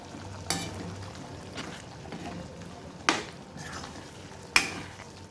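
Chickpea channa masala simmering in a pan at home, a low steady bubbling bed broken by three sharp clinks of a utensil against the pan, with no talk.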